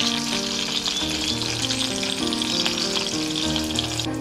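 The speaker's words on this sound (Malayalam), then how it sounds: "ഇതിലേക്ക് നമുക്ക് കുറച്ച് ഉഴുന്ന് പരിപ്പിട്ട് കൊടുക്കാം." Urad dal frying in coconut oil for tempering a snake gourd koottu, a loud, continuous close sizzle with soft music playing underneath.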